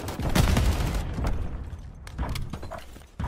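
Dense gunfire in Call of Duty Modern Warfare III multiplayer fills the mix with rapid automatic bursts and booming shots, loud and continuous with short gaps and a sharp final report.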